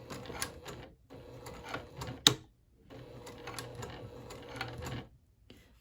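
Sewing machine back stitching a fabric pint cozy, quick bursts of close rapid mechanical stitching that stop and restart with short pauses and a sharp click between runs.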